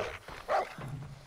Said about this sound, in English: Oh, the dogs!